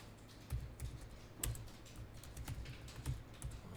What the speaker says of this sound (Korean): 여기다 그냥 타자 해야 되겠네요